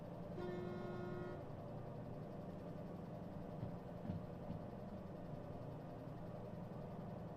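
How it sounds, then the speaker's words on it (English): A train horn in the Derail Valley railway sim gives one steady blast lasting about a second near the start. A low engine rumble continues underneath and carries on alone afterward. "I need a hotkey for honking"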